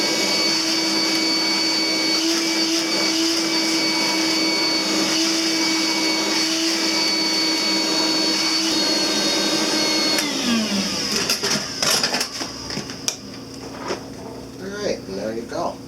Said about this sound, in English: any shop vac will do with the little end on it